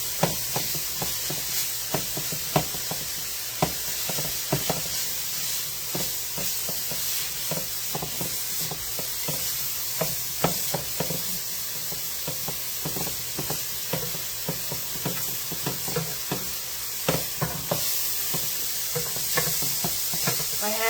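Sweet Italian sausages sizzle steadily in a pan, with a constant frying hiss broken by frequent clicks and scrapes of stirring, close up and without talk.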